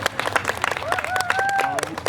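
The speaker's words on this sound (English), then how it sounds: "That's an applause, Pete." An audience applauds at a live Deadpool story-time stage show, with steady rapid clapping throughout. A voice calls out over the crowd partway through.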